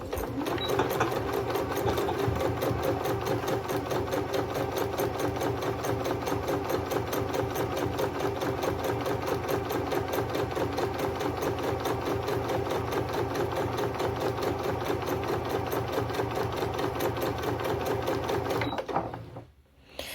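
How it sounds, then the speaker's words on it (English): A sewing machine stitches a zip pocket in a fast, even run of rapid mechanical needle strokes, close and steady for about nineteen seconds before stopping abruptly. "I'm going to put my needle in the down position. And don't forget to reverse stitch when you start."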